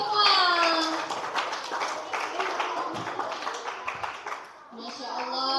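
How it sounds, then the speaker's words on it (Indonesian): Children and an audience clap at a primary school Ramadan pesantren event in Bondowoso after a young preachers' contest, a dense, lively round of many hands that tapers off, with children's voices rising before and after. "Ya, tepuk tangan untuk kita semua."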